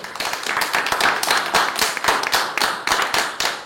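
An audience applauding contest entrants in a short film set in Cosne-sur-Loire, a lively crowd clapping with distinct, sharp hand claps standing out from a continuous wash of applause.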